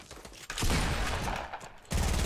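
An SMG fires in rapid, dense automatic bursts during a video game match, loud and continuous with a brief break before a final burst.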